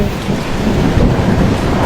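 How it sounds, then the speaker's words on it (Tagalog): Steady, dense rain roars without pause, a heavy downpour with a low rumble underneath. "Anong oras kaya hihinto yung ulan na yan?"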